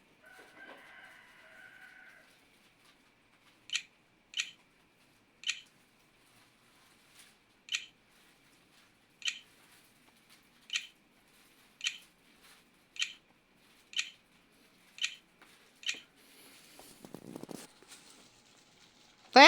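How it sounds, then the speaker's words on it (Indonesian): Keys on the built-in keyboard of an Asus X450LC laptop are pressed one at a time to enter a password, giving about a dozen faint, evenly spaced taps in a quiet room, with a brief thump near the end. "Untuk konekkan kita masukkan password menggunakan keyboard internal."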